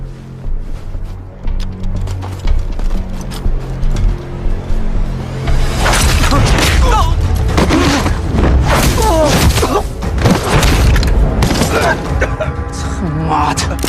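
Gunshots and violent impacts in a martial-arts movie fight scene, a burst of loud sharp bangs and thuds packed densely from the middle of the clip onward over music and shouting.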